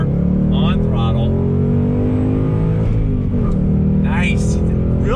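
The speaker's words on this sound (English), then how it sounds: "that V8 sound is what is king in this car" A 2020 Ford Mustang GT 5-liter V8 engine roars loudly and continuously on throttle, rising and falling through the revs, with a voice speaking briefly over it.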